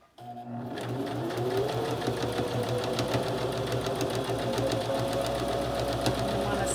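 A sewing machine stitches a fabric mask with elastic, starting up after a brief pause and then running steadily with a close, continuous rapid mechanical whir and buzz.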